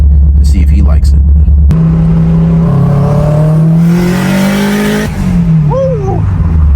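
A tuned Subaru turbo engine revs hard and close, climbing through rising harmonics with a rumbling exhaust, then easing off; a voice cheers near the end.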